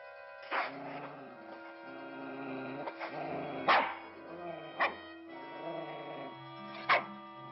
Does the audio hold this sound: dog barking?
yes